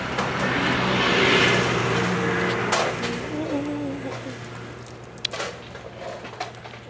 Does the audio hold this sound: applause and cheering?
no